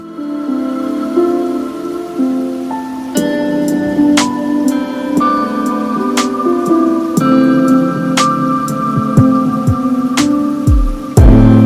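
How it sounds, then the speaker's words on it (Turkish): Rain patters steadily on a hard surface in Hallstatt, Austria, with scattered sharper drips and a faint tonal hum running underneath. "Hava yağmurlu."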